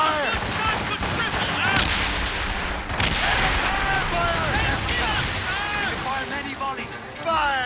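Cannon volleys booming from a sailing warship in the naval battle game Assassin's Creed Rogue, dense overlapping blasts rolling on and on with water and battle noise, while voices shout orders over the din.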